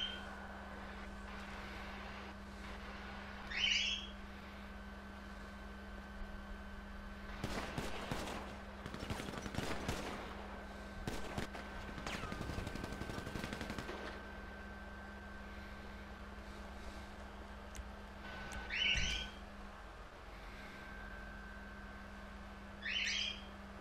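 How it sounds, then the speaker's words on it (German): Grenade launcher fire in GTA V Online comes as a quiet cluster of sharp, distant bursts and thuds in the middle, set against a low steady hum with a few faint high chirps before and after. "Ja, die schießen schon mit Granatwerfer."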